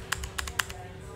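Typing on an Aula Wind F2058 mechanical keyboard, a brief run of crisp, clicky keystrokes close up, a few quick presses in a row against a light background hum.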